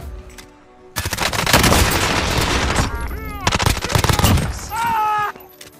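Call of Duty Warzone gunfire: after a quiet start, rapid automatic weapon bursts erupt loud and close, crackling continuously for several seconds with sharp individual shots and short breaks, fading near the end.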